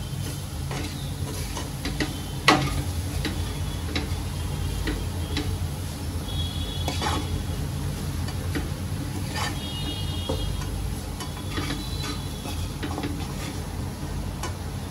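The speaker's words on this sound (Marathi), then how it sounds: "आता दुधाबरोबर चांगलं ह्याला मिक्स करून घेते" Wheat flour ladoo mixture being stirred and mixed with a little milk in a pan, giving steady soft scraping and ticking sounds with a faint sizzle underneath, close by and continuous, with one sharper knock early on.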